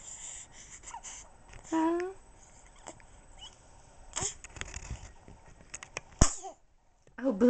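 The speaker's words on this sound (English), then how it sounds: "Oh, bless you." A two-month-old baby girl sneezes, a small sharp burst near the end amid soft infant vocal sounds and whimpers, close by with brief adult speech around it.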